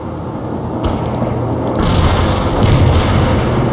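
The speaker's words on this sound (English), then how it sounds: "Command reports the missile has been launched." In the World in Conflict video game, a missile launch comes across as a continuous loud, dense rumbling roar that swells slightly midway, with a few faint high clicks layered on top.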